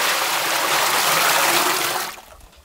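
Cooled water drained from cooked rice poured into a vessel in a traditional kitchen, a loud steady splashing pour lasting about two seconds before tapering off abruptly.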